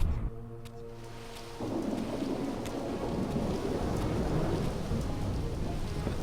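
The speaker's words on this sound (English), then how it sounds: "It's raining." Rain and rolling thunder in the game Soul Reaver 2, a steady heavy downpour building after a low rumble and continuing loud and unbroken, with no talk.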